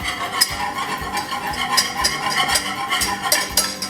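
A whisk beats white sauce for lasagna in a pan, making quick rhythmic clicking scrapes against the metal that repeat fast and evenly over a faint background sizzle.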